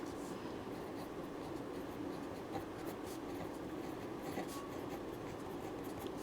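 Pen scratching steadily across paper while writing out an equation, a continuous close, soft rasping texture with no speech.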